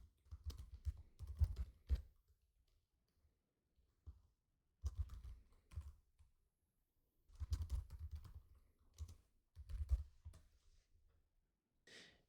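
Fingers type data into an Excel spreadsheet on a computer keyboard in quiet, close bursts of rapid key clicks, separated by short pauses of near silence.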